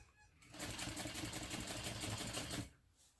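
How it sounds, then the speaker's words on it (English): Domestic sewing machine top stitching at a long stitch length through a bottom fabric panel and its seam allowance, a steady close whirring run of about two seconds that starts and stops cleanly. "you sew through the bottom panel and through the seam allowance"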